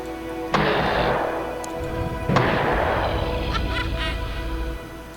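Two heavy ranged shots ring out in the fantasy strategy game Age of Fear 4, each a sharp blast that trails off in a long, ringing decay, with quieter clatter between them.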